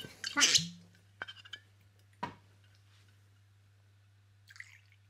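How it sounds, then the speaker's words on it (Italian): Water tips out of a chilled cocktail mixing glass, a short splashy pour followed by a few separate drips and light clinks, close and quiet over a low steady hum. "scoliamo l'acqua dal mixing glass che si stava già raffreddando"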